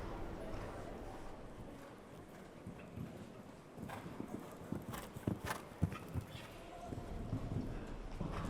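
Hooves of a showjumping horse thud irregularly across an arena at the Jeep All Stars Show, Bury Farm 2014, moderately near, under ongoing commentary talk.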